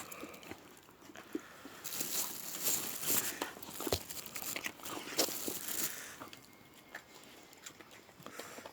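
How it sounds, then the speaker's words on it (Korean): Jindo dogs biting and chewing cucumbers close by, crisp wet crunches and snaps in irregular clusters. "아이고 오이 잘 먹네"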